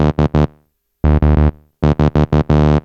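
Guitar run through a distortion pedal with its gain knob at minimum, giving clean, loud, short chopped notes and chords in a quick stuttering rhythm with brief pauses between the phrases.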